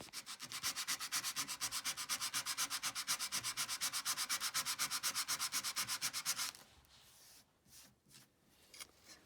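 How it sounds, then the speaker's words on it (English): Stained wood furniture rubbed by hand with sandpaper, a fast, even back-and-forth scratching stroke repeated steadily and close for several seconds, then stopping and giving way to a few soft, irregular rubs. "So we're going to take a little bit of sandpaper to it"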